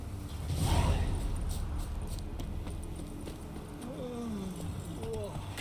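Roach the horse galloping in The Witcher 3, a steady run of hoofbeats with jingling tack under faint game ambience and a sweeping swell early on.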